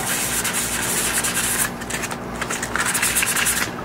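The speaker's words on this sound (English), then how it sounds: "I'm just gonna grab my sandpaper, do the same thing." Sandpaper rubbed by hand over a desktop tank build with a rough silicone bead, a steady close scratchy hiss across the whole stretch with a short lighter pause midway, no talk.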